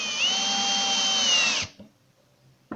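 A power screwdriver whines steadily for about a second and a half driving a screw into wood, loud and close, then cuts off, leaving quiet with a couple of small knocks.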